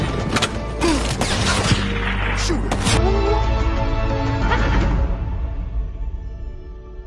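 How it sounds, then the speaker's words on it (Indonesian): Soldiers led by a captain spray bullets in a film scene: dense, loud bursts of rapid gunfire with sharp cracks and booms, which thin out and fade into a lingering rumble. "si kapten dan anak buah pun langsung memberondongnya dengan peluru panas"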